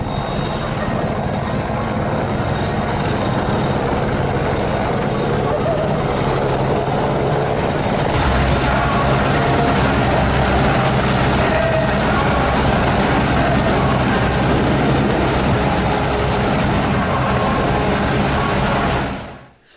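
A Commando helicopter flies past with loud, sustained rotor and engine noise that swells sharply partway through, then cuts off abruptly at the end.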